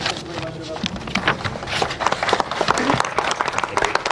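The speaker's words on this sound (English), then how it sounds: "Applause for Leo Varadkar as he became emotional at the end of that statement" An audience breaks into applause for Leo Varadkar after his resignation statement. The clapping is dense and crackly, with a voice talking over it throughout.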